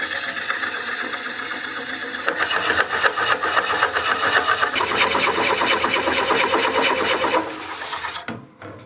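Woodcut Bowlsaver Max 4 coring a wood bowl on a lathe, a loud, close, continuous rasping and chattering cut that intensifies midway, then drops away near the end as the lathe winds down.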